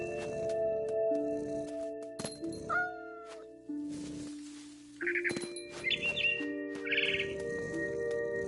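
A frightened bird in a video game gives a run of sharp chirps and tweets over soft tonal game music, close and fairly quiet, with short bursts spread across the passage.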